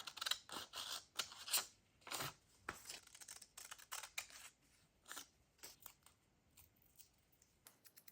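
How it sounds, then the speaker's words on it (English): Scissors cutting a piece of red paper ephemera: close, quiet snips in irregular bursts of crisp blade closes and paper crunches, with short pauses between cuts. "So I want to cut a piece that has the red."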